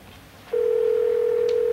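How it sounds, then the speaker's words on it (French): A phone line rings out as a call is placed: after half a second of quiet room noise, a single loud, steady ringback tone begins and holds unbroken to the end. "Ça sonne."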